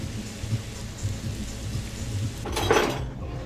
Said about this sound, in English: sizzle those onions on low for a while